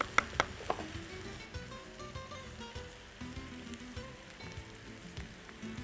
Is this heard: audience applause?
no